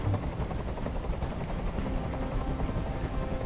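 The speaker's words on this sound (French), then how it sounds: "Je peux plus supporter ce bruit. Fais dégager cet hélicoptère," Helicopter in the Detroit: Become Human video game, a steady loud rotor drone filling the whole stretch with dense low thumping and broadband noise, no voices.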